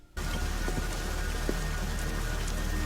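Steady rain falls in a night scene with a motorcade, a dense even patter of drops that sets in abruptly and continues without talk.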